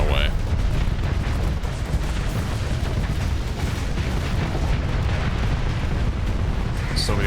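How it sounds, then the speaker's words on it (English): Dense, continuous rumbling explosions and blasts from a video game space battle, loud and unbroken throughout, with a person talking over the din. "So many explosions happening."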